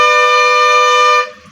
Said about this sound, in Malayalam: ഈ ഹോണടി മാത്രമാണ് വലിയ വിഷയം.